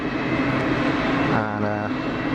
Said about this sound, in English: We're looking here at Qatari 787 Dreamliner, departing late to Doha